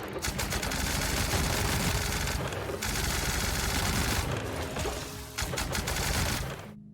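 A video game automatic weapon holding 80 rounds per magazine fires in long, rapid, loud sprays, its rate climbing as it unloads, with a brief pause near the middle before the burst resumes.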